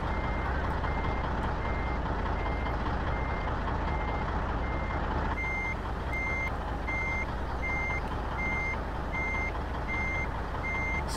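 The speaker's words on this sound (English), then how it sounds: "I'm trying to back this truck out" Steady, evenly spaced reversing beeps from an MAN F2000 truck in Euro Truck Simulator 2, repeating over a constant low engine rumble throughout.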